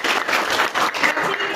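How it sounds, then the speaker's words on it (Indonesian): Brief applause in a classroom, a small group clapping in uneven bursts for under two seconds, close and moderately loud. "berikan tepuk tangan"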